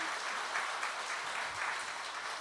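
An audience at a committee appointment ceremony and rally for extending the GTX-C rail line to Cheonan applauds for the committee chairman, a steady, fairly soft wash of clapping.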